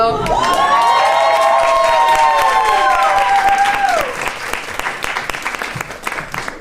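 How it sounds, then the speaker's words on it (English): A comedy club audience at a stand-up night gives loud, sustained applause with whoops and cheers that ring over the clapping, then thins and softens toward the end. "One more round of applause for Kari for that one, all right?"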